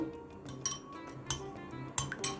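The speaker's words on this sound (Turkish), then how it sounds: "Bir kaşık yardımıyla şöyle bir karıştıralım yağımızı" A spoon stirs melted butter and vegetable oil in a bowl for baklava. Faint, light clinks of metal against the bowl come in a few scattered bursts.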